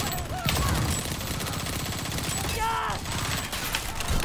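Rapid bursts of video game gunfire crackle during a Hyenas match over a dense mix of game effects, steady and loud throughout with a brief swooping effect midway.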